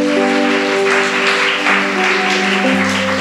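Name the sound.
applause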